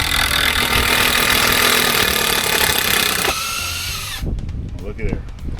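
A power tool whirs steadily and loudly while backing out an old deck screw, then stops abruptly, leaving a few short clunks and handling noises.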